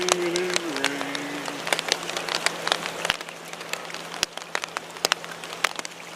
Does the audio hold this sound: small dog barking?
no